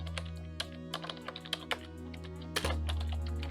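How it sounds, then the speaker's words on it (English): Keystrokes on a computer keyboard while entering a case reference into a quiet title lawsuit form, a steady run of light clicks with a heavier thunk near the end over a constant low hum. "we're going to type a case reference."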